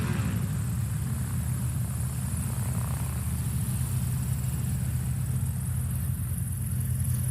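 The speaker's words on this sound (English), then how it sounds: "Trevor Smith taxiing by in the Aerobat, the Cessna 150 Aerobat." Cessna 150 Aerobat light airplane taxiing at a STOL practice event, a steady low propeller-engine drone with a constant rumble, holding even and fairly close throughout.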